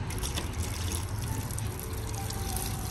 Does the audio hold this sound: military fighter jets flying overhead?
no